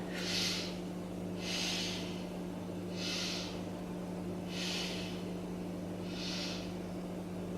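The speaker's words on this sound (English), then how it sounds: "Let's take 3 breaths here." Deep breaths taken while holding a yoga pose, five slow, close, airy breaths evenly spaced about every one and a half seconds over a low steady hum, with no talk.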